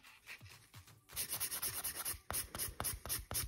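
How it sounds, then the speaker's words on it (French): A hand nail file rasps against an acrygel nail extension, shaping the ridge in quick, rhythmic back-and-forth strokes, soft at first and then louder and closer, alone without speech. "Ensuite on va venir limer le bourrelet"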